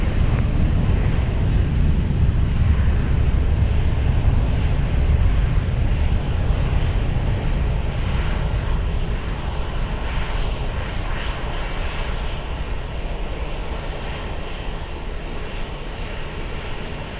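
A jet airliner rolls down runway 20 at Lisbon Airport on its takeoff run, its engines a loud, steady broadband roar that holds strong throughout and eases only slightly toward the end, with no voices.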